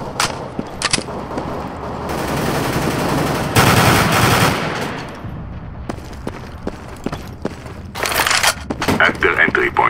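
Counter-Strike: Global Offensive gunfire on the Dust 2 map in casual mode, with sharp rapid shots, sustained automatic bursts and crackling reports, while voices talk over the fighting.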